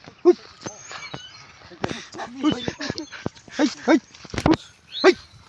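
Dog barking and whimpering in short, irregular yips among a group of people chatting outdoors at a picnic with friends, the dog sounds cutting through the talk at moderate distance.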